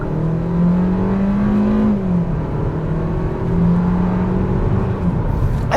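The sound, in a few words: Kia Seltos SX Turbo accelerating up highway on-ramp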